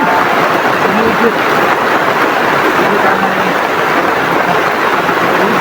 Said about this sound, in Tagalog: Sa sobrang lakas talaga ng ulan.